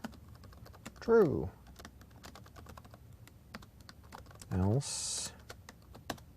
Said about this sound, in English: Still getting used to typing on this laptop keyboard.